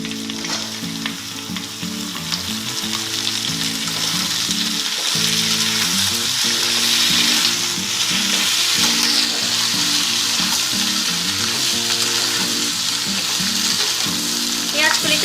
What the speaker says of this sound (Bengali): আলুগুলো সব ভাজা হয়ে গেছে এবার আমি এর মধ্যে পেঁয়াজ কলিটা দিয়ে দিচ্ছি